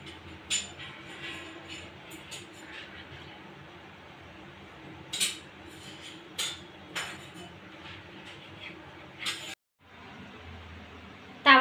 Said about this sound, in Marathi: अशा प्रकारे सर्व कट करून घ्यायचे आपल्याला तिन्ही ब्रेड